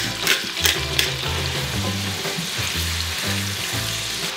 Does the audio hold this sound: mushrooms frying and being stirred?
yes